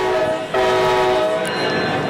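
A train horn blares loud and sustained for about two seconds, one long steady blast with a brief dip near the start, heard alone with no talk.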